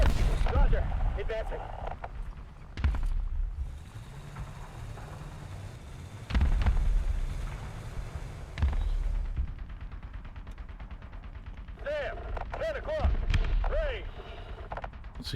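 Heavy tank cannon blasts in War Thunder boom a few seconds apart, each with a deep rumbling tail over a constant engine drone, while someone talks throughout.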